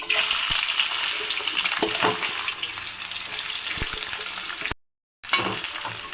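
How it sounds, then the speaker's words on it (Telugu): Onions frying in hot oil with cumin and mustard seeds for a tamarind fish curry, a steady close sizzle with occasional stirring scrapes and a brief dropout near the end. "ఆనియన్స్ ఇప్పుడు కొంచెం ఫ్రై అయ్యాయి."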